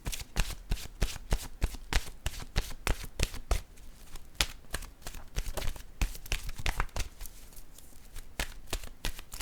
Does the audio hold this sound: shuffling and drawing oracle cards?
yes